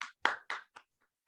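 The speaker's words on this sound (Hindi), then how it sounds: "का जोरदार तालियों के साथ स्वागत करता हूँ" A few scattered hand claps, sparse and uneven, welcoming a speaker at an event; short close claps with gaps between them rather than full applause.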